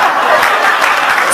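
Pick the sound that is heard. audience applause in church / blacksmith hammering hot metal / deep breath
audience applause in church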